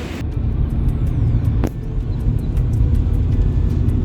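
A Maruti Suzuki Brezza LXi with its 1.5-litre K-series petrol engine drives along, giving a steady, smooth low rumble heard from inside the car, with a brief faint click partway through.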